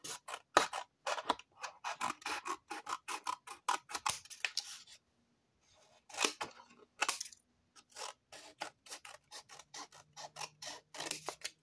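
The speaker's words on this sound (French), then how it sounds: "Alors, les ciseaux, on va voir ce que ça donne." Scissors cutting paper for a craft album, close and quiet, a quick series of crisp snipping crunches in bursts with a brief pause midway, no talk.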